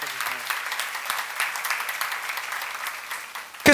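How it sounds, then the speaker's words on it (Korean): Applause from a church seminar congregation during a sermon on 2 Kings, a steady patter of many hands clapping that runs throughout, ending in a louder close burst. "박수로 가주세요."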